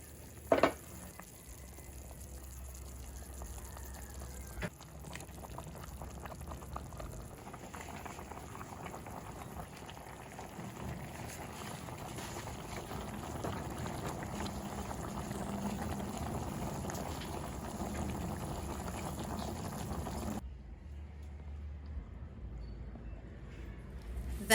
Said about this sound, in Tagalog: Cover and simmer.